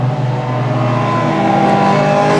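Junior Sedan race cars roar steadily past on a racing circuit, their engines loud, close and continuous, with a sustained high-revving drone throughout.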